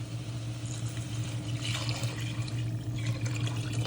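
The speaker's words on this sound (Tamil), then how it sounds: "இப்போ அளந்து வச்ச தண்ணியை நம்ம ஊற்றிடலாம்" Water pours steadily into a pot of cooking tomato rice with a continuous splashing gurgle, set against a low steady hum, close by and with no voices.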